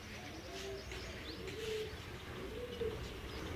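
Pigeons flying at home, with soft cooing and chirps over a steady background hum. The birds sound faint and distant, with no talking.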